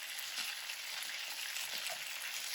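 Chicken pieces browning in a pan for bourbon chicken, giving off a steady, close hiss of frying with light crackles and no talking.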